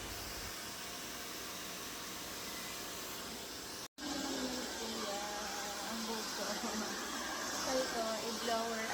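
A hair dryer blows steadily in a salon while hair is straightened, a continuous airy whoosh with a brief cutoff midway before resuming, with faint talk and salon activity underneath.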